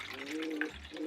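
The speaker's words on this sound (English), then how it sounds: "now we're going to add water into the filter" Water is poured into an aquarium filter for a 40-gallon axolotl tank, a quiet, close trickle with a faint tonal hum in the background.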